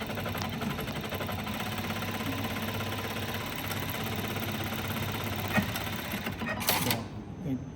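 A JUKI LBH-1790AN industrial sewing machine runs with a fast, steady mechanical chatter up close throughout. A person talks over it, and a brief sharper clack comes near the end.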